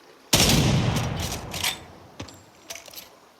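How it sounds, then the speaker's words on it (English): A single heavy shot from the Longshot sniper rifle in Gears of War, a loud close blast with a booming tail that fades over a second or two, followed by faint mechanical clicks. "A grand sound that remains mostly unchanged in 16 years of games."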